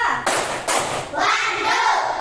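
Two sharp hand claps about half a second apart, loud and close, from a group doing an icebreaker clap routine in a teachers' coaching session, followed by voices speaking.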